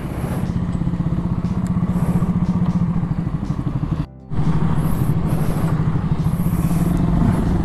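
An automatic scooter motorcycle rides along a road with a steady, loud engine drone and road rumble throughout, briefly cutting out near the middle before resuming.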